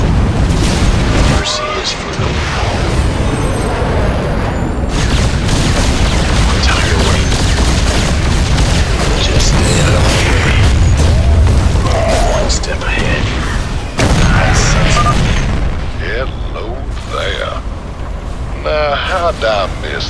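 Nuclear missile explosion in the StarCraft II video game, a heavy booming blast followed by sustained rumbling roar and crackling debris, loud and dense, with game voices speaking over parts of it.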